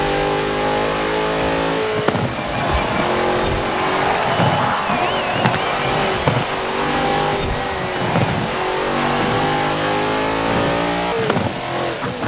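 An Ascari supercar in the racing game Forza Horizon 4 roars steadily throughout, its engine and exhaust rising and falling through revs and gear changes, with occasional tire squeal and no talking.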